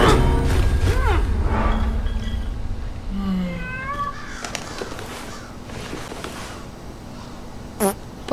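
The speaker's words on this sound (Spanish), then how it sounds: "¡Ay, un gatito, mi amor! ¡Qué mono! Con su gorrito." Cat meowing in the Hello Neighbor video game: several drawn-out, rising and falling meows, loud and close, heard over a busy game soundscape and voices, followed by a sharp short cry near the end.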